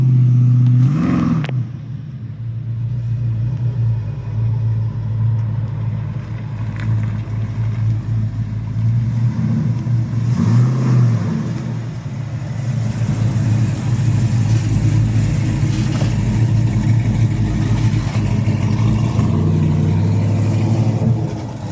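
A 1983 Chevy pickup truck engine runs loud and steady close by, with the pitch rising and falling in several revs over a sustained rumble.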